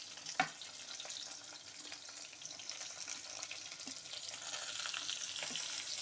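Soft sizzling of okra and chopped tomato frying in a pan, fairly faint and continuous, with a single sharp clink near the start.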